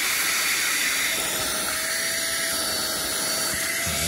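A small car-mounted Dagmara vacuum cleaner sucks up dust from crevices around a bed, giving a steady, loud broadband whoosh with a faint high whine throughout.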